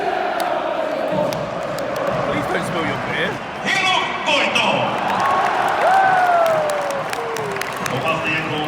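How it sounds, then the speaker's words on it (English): A packed football stadium crowd at the AIK versus Hammarby Stockholm derby roars and chants as a steady broad din, with a nearby voice speaking over it and a rising whistle-like tone near the end. "this is their second biggest home crowd ever in this stadium. And you can now hear it."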